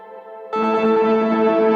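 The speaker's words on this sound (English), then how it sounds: "it wobbles, it creates some sort of almost chorus-like effect on the reverb." A synth pad on a Digitakt 2 swells in after a quiet start, its reverb tail shimmering with a gentle chorus-like wobble that stays steady and full.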